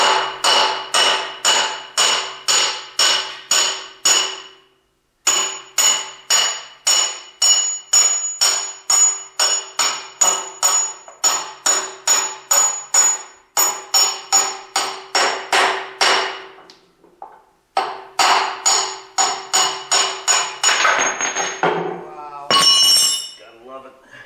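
Metal hammer blows ring out on a part of a Kubota BX compact tractor, struck in quick rhythmic bursts of sharp clanking hits with brief pauses, loud and close, with people talking between the strikes.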